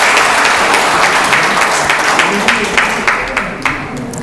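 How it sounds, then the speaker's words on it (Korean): A standing audience at an Andong panel discussion on culture and Andong soju welcomes the panelists with sustained, dense applause. It stays loud and steady, with a few sharper individual claps standing out toward the end. "여러분 큰 박수로 환영해 주십시오."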